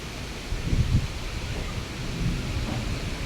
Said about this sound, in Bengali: দেখেন প্রচুর পরিমাণে তুফান হইতেছে